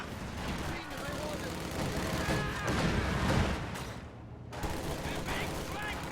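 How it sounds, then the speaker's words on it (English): Dense infantry gunfire rattles through a video game battle, with continuous overlapping rifle and machine-gun bursts throughout and a brief dip in the firing near the end. "Taking infantry fire."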